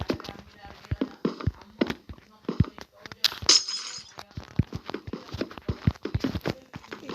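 Blocks being broken in Minecraft while building a hospital, a rapid series of crisp cracking and knocking hits with a glassy shatter near the middle, under ongoing talk.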